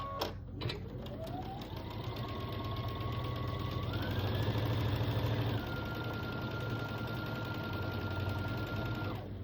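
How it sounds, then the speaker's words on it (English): A sewing machine runs steadily while stitching a row of a Christmas quilt, a close, continuous motor hum that rises in pitch as it speeds up and holds for several seconds. "I'm going to keep sewing along this row"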